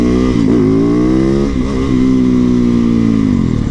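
A lightweight, torquey motorcycle engine revs loud and close, holding a continuous growl while the pitch climbs, dips and swells under throttle, with no talking.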